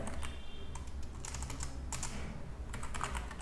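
Quiet, rapid clicking of keys on a computer keyboard, a steady run of close, light keystrokes with short clusters and no voice over it.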